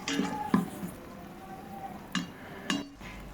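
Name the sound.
stir-frying cumin and cinnamon in pan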